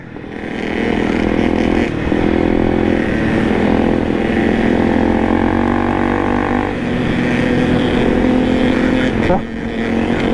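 A Honda CRF250 enduro motorcycle ridden hard on a dirt trail, its engine droning loud and close with continuous revving and shifts in pitch, while a rider talks over it.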